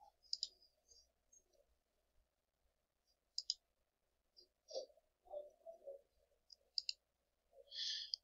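A computer mouse clicks sharply several times in a quiet room, with sparse, irregular clicks close to the microphone and a few faint soft rustles between them.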